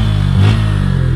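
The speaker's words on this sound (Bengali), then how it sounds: "বাইকের এক্সজস্টের সাউন্ড অস্থির একটা সাউন্ড," A Suzuki Gixxer 155 idles close by, its exhaust making a loud, steady drone, with one short rev blip partway through.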